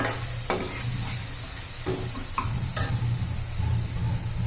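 Kashmiri red chili powder frying in hot oil for a spicy Bhogi vegetable dish, with a steady close sizzle and a few sharp scrapes of the spoon as it is stirred.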